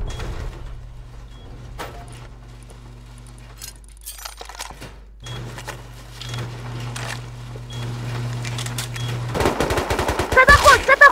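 Video game gunfire, with bursts of automatic shots, clicks and metallic clatter, close and sharp, getting louder and denser toward the end over a low steady hum.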